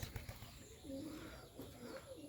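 Bombay and Rajshahi Giribaz pigeons coo softly outdoors in light rain, low repeated calls sitting faint under steady background noise.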